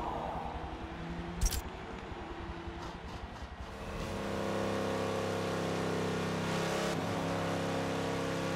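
A Dodge Durango SRT engine in Forza Motorsport 7 idles and then rises into a steady, sustained drone that holds for several seconds, moderately loud and with no talk.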